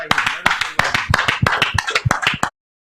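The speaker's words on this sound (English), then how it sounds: "Round of applause for our folks." Applause from a small group honoring guests at a basketball team mentoring event, sharp irregular hand claps lasting about two and a half seconds and then stopping abruptly, fairly close and loud.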